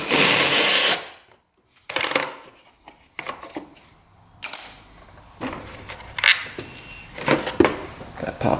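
Hand tools work loose the bolts on an ATV's cage: a loud grinding burst opens, followed by intermittent creaks, clanks and ratcheting scrapes close by, with no talking.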